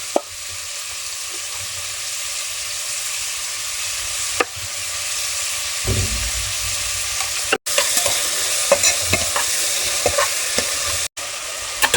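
Cut onions frying in a pan with salt added, a steady close sizzle broken by occasional spatula scrapes and sharp knocks against the pan, with no voices.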